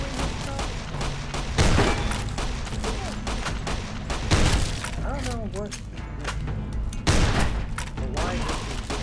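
In the video game Fallout: New Vegas, gunshots ring out in three loud, close bursts about three seconds apart, each a sharp crack with a short tail over ongoing game sounds.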